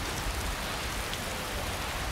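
Steady rain falls in Skyrim, a soft continuous hiss of drops on surfaces, even and unbroken for the whole short stretch, with no voices.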